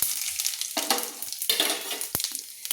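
Whole cumin seeds and small bay leaves crackle and sizzle in hot oil, a loud, close hiss broken by stirring scrapes and a sharp clank, with no speech.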